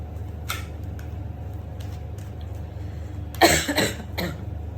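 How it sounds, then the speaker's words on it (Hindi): A short burst of harsh coughs, close and loud, after a few soft clicks over a low steady hum. "खांसी नहीं जा रही यार"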